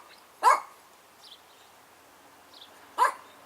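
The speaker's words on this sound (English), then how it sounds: "That's not my dog, that's my niece's boyfriend's dog." A dog gives two sharp barks about two and a half seconds apart, fairly close and loud, with quiet between them and no one talking.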